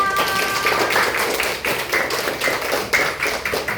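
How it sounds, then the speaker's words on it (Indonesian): Students of class 6A clap together in their classroom during a maths lesson, a dense, steady wash of close hand claps lasting several seconds without a break. "Tepuk tangan lagi buat kelas 6A"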